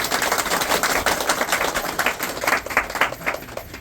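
Crowd clapping at a village assembly in honour of Mahadev, a dense patter of hand claps filling the space, fairly close and steady with a faint voice or two underneath.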